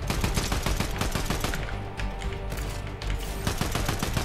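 Gunfire fills a Fortnite-style battle royale match where a sniper rifle is in use, with dense loud rapid shots and bursts continuing almost without a break.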